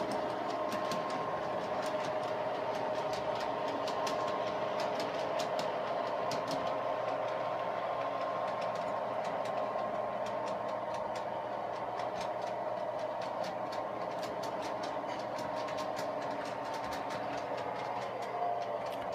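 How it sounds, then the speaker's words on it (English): A Hartland large-scale Mack diesel model locomotive with DCC Tsunami sound runs loops on an outdoor track, giving a steady, continuous engine drone with faint rail clatter throughout, no talking. "Now you can see the Mack diesel on the outside track is making its second loop around the"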